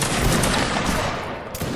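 A musket volley fires in a Napoleonic Wars battle game: a dense, loud wall of overlapping crackling shots rolls on for nearly two seconds, with a brief dip before a final burst.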